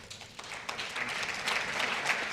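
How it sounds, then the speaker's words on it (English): Audience applause at an evening cancer center fundraiser, a soft, dense patter of many hands clapping that builds slightly and holds steady throughout. "You should all be applauded."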